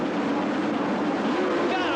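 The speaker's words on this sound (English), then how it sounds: "Engage gear. Rev up the engines. Hold in the clutch." Racing motorcycles at a Brands Hatch Formula 750 World Championship start in 1977, a dense, loud, continuous roar of many engines revving together on the grid, with a commentator speaking over it.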